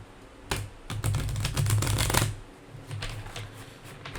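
Tarot cards shuffled by hand in a steady riffling burst of crisp, papery flutters, close and clear, easing off into softer handling noise afterward.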